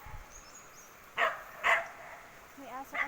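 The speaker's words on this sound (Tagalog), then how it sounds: "Anong tinatahulan ng aso namin?" A pet dog lets out two or three sharp, close barks a few moments apart amid faint background noise, ending in a higher yelp.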